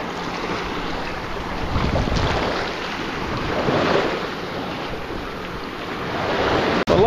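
Waves roll in steadily at a bay beach at low-tide time, a loud continuous wash of surf swelling and receding with heavy wind buffeting the microphone, no voices.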